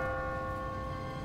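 An automatic church bell tolls in The Walking Dead video game, a faint, sustained ringing tone heard from a distance with no talking.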